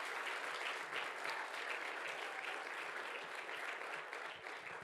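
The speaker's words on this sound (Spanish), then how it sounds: "un aplauso para ellos." A church congregation applauds, a broad wash of steady clapping that keeps going for several seconds at moderate level and thins slightly toward the end, with no speech on top.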